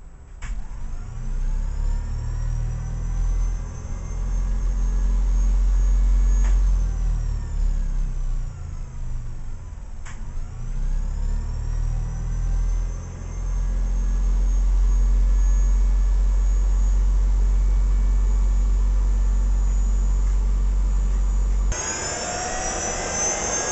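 An electric motor armature spins under voltmeter test, giving a loud, steady low-pitched whir and hum with surging intensity, running continuously before cutting to a brighter noise near the end.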